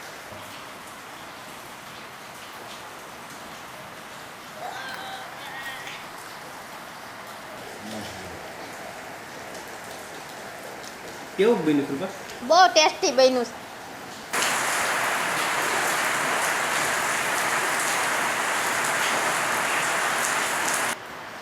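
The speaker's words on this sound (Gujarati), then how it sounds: "વાડીએ વરસાદ ચાલુ થયો" Rain pours down at a farm, a dense hiss that begins suddenly after a few brief voices and a clatter, then holds loud and steady to the end.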